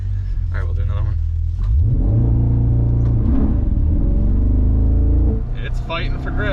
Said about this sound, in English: It is interesting that it goes out of loud exhaust mode in launch control.